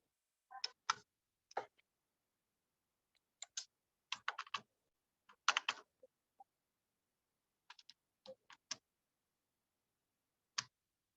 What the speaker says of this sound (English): suppose simply you are typing in Google